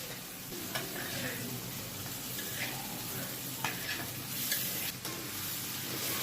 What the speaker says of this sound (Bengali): মশলাটা কষানো হয়ে গেছে আমি এখন ভাজা কুমড়াগুলো দিয়ে দেবো